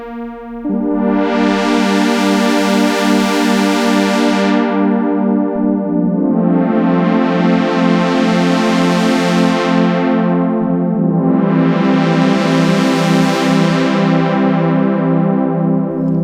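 A thick, buzzy synth pad chord of detuned sawtooth oscillators, sustained throughout, swelling brighter and duller in three slow filter-cutoff sweeps.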